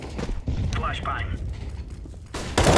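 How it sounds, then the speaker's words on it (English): Counter-Strike flashbang grenade going off: a muffled thump and clatter, a stretch of quieter game noise, then a sudden loud bright burst at the end that holds as a harsh ringing blast. "Flashbang."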